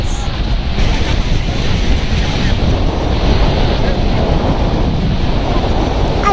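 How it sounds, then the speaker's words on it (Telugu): The Bridal Veil Falls at Niagara Falls give a loud, continuous broadband roar of falling water, steady throughout and mixed with wind buffeting on the microphone. "ఇంకా ఇక్కడ చిన్నగా ఇంకోటి ఉంది కదా, అది బ్రైడల్ ఫాల్స్."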